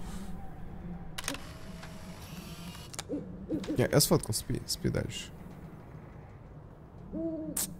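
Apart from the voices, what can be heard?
owl hooting in the video game Life is Strange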